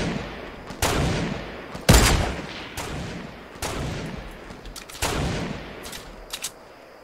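Sniper rifles fire in the video game Fortnite: about six sharp, separate gunshot cracks at uneven intervals, each with a short echoing tail, fairly loud over quiet game ambience.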